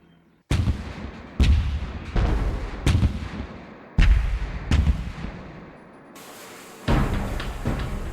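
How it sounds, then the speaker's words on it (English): US warship guns fire an artillery barrage onto the Kuwaiti coastline: about eight heavy booms in irregular succession, each decaying into rumbling echo, loud and unaccompanied by voices. "Out in the Gulf, the big guns of the US warships began a massive artillery barrage onto the Kuwaiti coastline."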